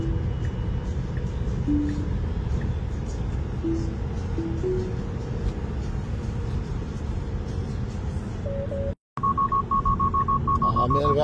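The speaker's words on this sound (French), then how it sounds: "Ah mais elle va arrêter de gueuler toutes les 2 secondes. C'est le seul truc qui est vraiment insupportable avec les Tesla." A Tesla car sounds repeated warning beeps: short tonal chimes recur every couple of seconds over a steady low engine-bay or cabin hum, then a brief cutout followed by a faster, higher run of regular beeps.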